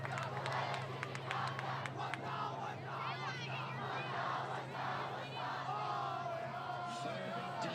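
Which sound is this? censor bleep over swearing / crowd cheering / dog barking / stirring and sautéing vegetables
crowd cheering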